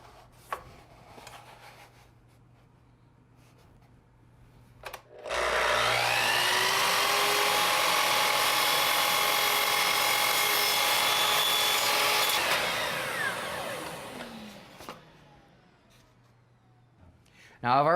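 Compound miter saw slicing through poly crown moulding: a loud, steady high-pitched whine and cutting roar lasts about seven seconds, then spins down, with quieter workshop sounds before and after.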